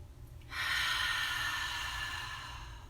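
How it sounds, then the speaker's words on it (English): A slow, deep breath drawn in and let out during a relaxation moment in an elementary class session, a long airy rush that swells and then fades gradually, close and alone. "take a deep breath"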